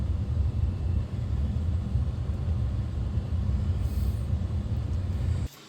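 A 2005 Chevy Silverado 1500 HD heater blower fan, just fitted with a new blower motor resistor, runs at its top speed 5. It makes a steady, loud rushing roar with low rumble that holds evenly, then cuts off abruptly near the end.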